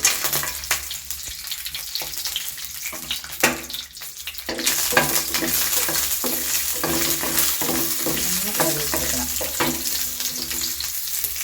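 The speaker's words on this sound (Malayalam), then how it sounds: "പാൻ അടുപ്പിൽ വെച്ച് കുറച്ച് നെയ്യ് ഒഴിച്ചു കൊടുക്കാം നമുക്ക് കാഷ്നട്ട് ഇട്ട്" Cashew nuts frying in ghee in a pan, a soft crackle early that jumps to a loud, steady sizzle partway through, with occasional stirring clicks, close up and no voices.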